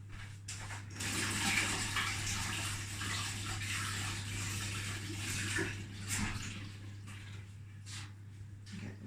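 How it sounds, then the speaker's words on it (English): Tap water runs steadily into a kitchen sink while hands are washed under it during scone baking, a close, even rush lasting several seconds over a low appliance hum, then easing off near the end. "I'm just going to wash my hands."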